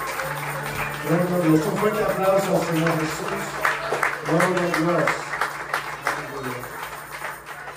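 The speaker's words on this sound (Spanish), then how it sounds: "un fuerte aplauso al Señor Jesús" Congregation applause rings through a Hispanic Pentecostal church during a baptism service, steady clapping running beneath voices that speak and call out over it.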